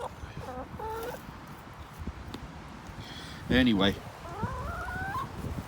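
Backyard chickens cluck and crow while pecking at a square bale of hay, their calls close and intermittent, with one louder squawking burst midway; someone talks over the birds.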